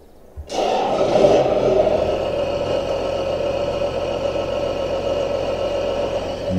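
Farm tractor engine starting up and running steadily in a farming game, a loud continuous low rumble that kicks in abruptly and holds without talk.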